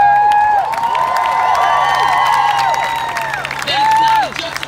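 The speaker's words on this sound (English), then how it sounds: "clapping your hands and screaming and shouting every time someone says something that sounds good" A large outdoor crowd at the 2018 women's march in Los Angeles claps, screams and cheers loudly and continuously, with shrill whistles and shouts rising over steady applause.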